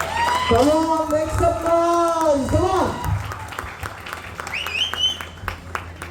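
A voice calls out over the hall, then an audience at a stage launch of a new Marathi song breaks into loud, sustained clapping with a whistle and a few cheers rising near the end.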